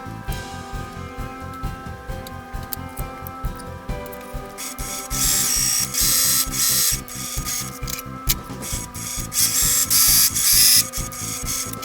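A sewing machine stitching the side seams of t-shirts being resized, a steady rapid mechanical whirr with regular needle ticking that grows louder and busier partway through, with no voices.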